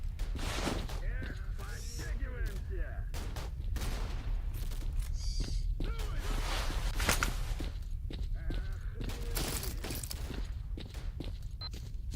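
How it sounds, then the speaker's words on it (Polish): A firefight rages in S.T.A.L.K.E.R. Call of Chernobyl: a dense, steady crackle of distant gunshots keeps going throughout with no break, and faint voices sit in the mix. "Oni się jeszcze strzelają do jasnej cholery."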